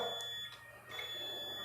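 A multimeter set to continuity buzzer mode sounds a steady, unbroken high-pitched tone while testing a fully shorted IGBT in a V-Guard induction cooker, with light handling noise over it.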